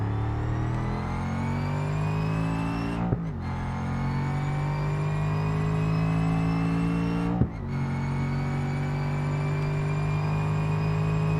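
Supercharged car engine in BeamNG.drive on a speed test, heard from the cabin as a sustained tonal drone that climbs steadily in pitch through the gears, with two brief drops at gear shifts before rising again.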